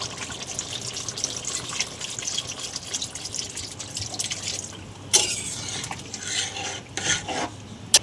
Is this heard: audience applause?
no